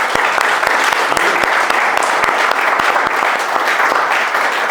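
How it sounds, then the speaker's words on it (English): An audience at a property management business event applauds steadily for a few seconds, with dense, even clapping from a room full of people. "Let's get a round of applause."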